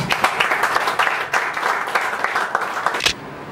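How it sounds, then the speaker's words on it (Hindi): An audience claps together in a hall, a full, even burst of applause lasting a few seconds and stopping fairly abruptly, with no voices over it. "मैं चाहूंगा हम अमित सांखला के लिए तालियां बजाएं।"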